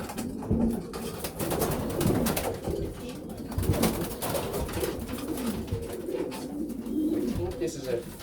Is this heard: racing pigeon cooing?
yes